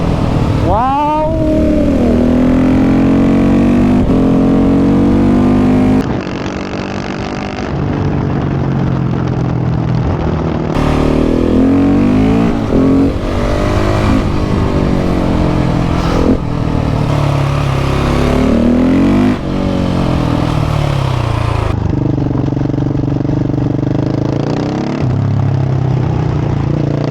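A KTM 690 SMC R single-cylinder motorcycle fitted with a LeoVince exhaust rides a Dolomite mountain pass, loud and close, revving up and down through repeated gear changes with sharp rising and falling engine sweeps, occasional brief wind-muffled dips, and a rider talking over it.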